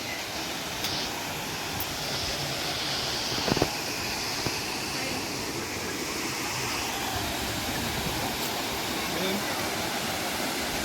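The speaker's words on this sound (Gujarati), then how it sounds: "ઉપરથી જે પાણી આવે ને" Water pours down into a pool below a dam in a constant, loud, rushing roar that fills the whole stretch, with no one speaking.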